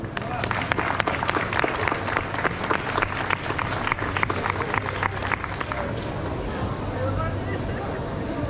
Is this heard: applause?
yes